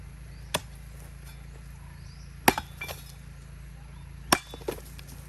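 Fork chipping at tough food in a plate, three sharp scraping clinks spaced a couple of seconds apart, each followed by smaller scratches, over a low background hum.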